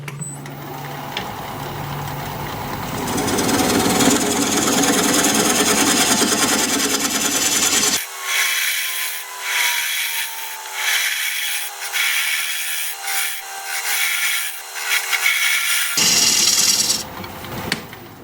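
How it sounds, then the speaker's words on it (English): A half-inch gouge cuts a recess into a wood-turned bowl on a lathe, a rough, continuous scraping and whirring that grows louder, then breaks into intermittent cutting bursts over a low hum before ending in a final burst. "switch to a 1/2 inch gouge to make the recess"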